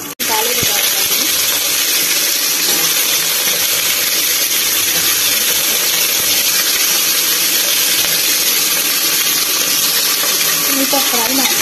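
Potatoes, onion and curry leaves frying in hot oil, a loud, steady hiss and crackle that starts abruptly and holds evenly throughout, close up with no voices.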